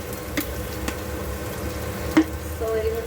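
Onions fry in a pan for chowmein, giving a soft, steady sizzle with a few scrapes and taps of stirring, fairly quiet and heard alone.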